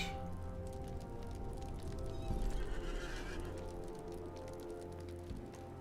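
Horse neighing in the online game LOTRO, a clear whinny over rain-like patter and steady clip-clop hooves, moderately loud and continuous.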